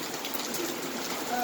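Hail and rain falling on a porch awning during an August rainstorm, a steady dense patter of drops drumming overhead, moderately loud and continuous throughout.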